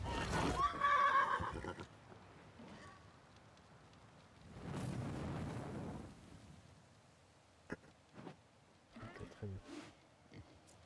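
A horse whinnies in the medieval strategy game Wartales, one loud neigh at the start and a softer breathy one mid-clip, followed by scattered faint clicks and thuds in quiet game ambience.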